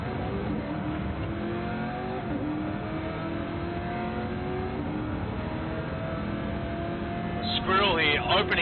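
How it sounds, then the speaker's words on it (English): A Corvette V8 Supercar engine revs hard while racing, its pitch rising and falling through gear changes, loud and continuous beneath an excited commentator's voice. "That Corvette just sounds amazing."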